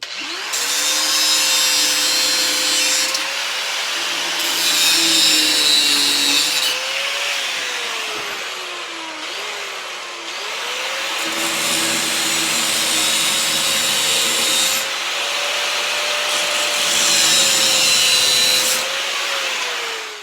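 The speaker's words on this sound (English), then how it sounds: "So I'm just going to cut those nails off." Power tool cutting through old nails in a mobile home door frame, a loud whining buzz in several long bursts with short pauses and a shifting motor pitch, close by.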